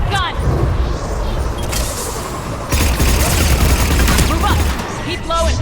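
Rapid bursts of gunfire from a mounted gun in the video game Mass Effect 3 pound through a dense, noisy battle mix, with heavy booms and a louder stretch in the second half, and voices shouting over the fighting.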